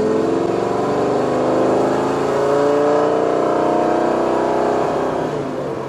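Lamborghini Gallardo V10 with an aftermarket exhaust, a loud sustained engine roar that holds steady and climbs gently in pitch as it revs, close by and with no voices over it.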